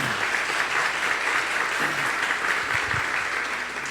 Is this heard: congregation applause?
yes